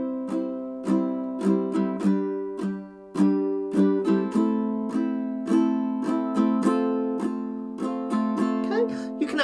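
Gentle ukulele down-strums in steady 4/4 common time for the verse of a song, each chord rung cleanly with a soft attack and short decay, repeating evenly at a moderate, close-up level with no talking.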